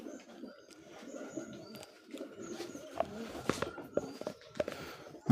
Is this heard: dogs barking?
no